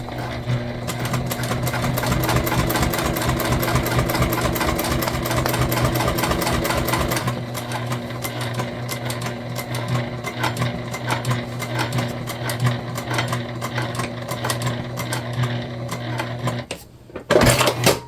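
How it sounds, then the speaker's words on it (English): A sewing machine runs steadily for several seconds, then shifts to shorter, uneven bursts while back stitching the top of a seam on a bag. The machine is close and loud, with no talking. "Plenty of back stitching at the top."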